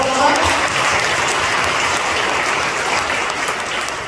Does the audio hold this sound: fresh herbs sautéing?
no